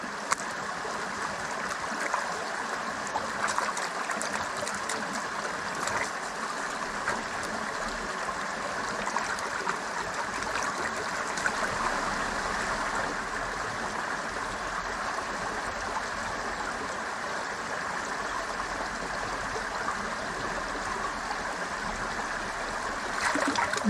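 Creek water flows steadily over rocks during a gold-panning session, a continuous rushing and trickling wash with no talk, holding an even level throughout.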